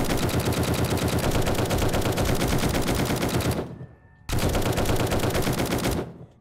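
A tactical assault rifle hip-fires at zombies in the video game 7 Days to Die. Two long, loud, sustained automatic bursts of dense rapid shots come with a brief near-silent gap between them, and both end abruptly.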